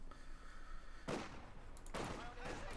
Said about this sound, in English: Soviet sniper out there, equipped with a scoped Mosin Nagant.